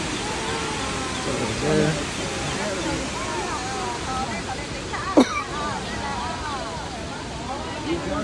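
The Huangguoshu waterfall in Guizhou roars steadily, throwing off heavy spray, beneath a constant babble of a crowd of visitors, with a person speaking briefly close by and one sharp knock partway through.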